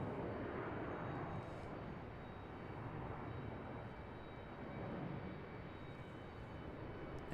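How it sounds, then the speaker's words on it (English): An Airbus A321neo airliner taxiing across the taxiways at Charlotte airport gives a steady, broad jet-engine roar that holds at an even loudness throughout, with no talk. "The A321neo coming across the taxiways."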